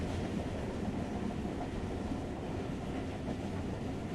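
Steady rumble and rattle of a train in the video game Tokyo Dark, a continuous rolling clatter holding an even level throughout with no talking over it.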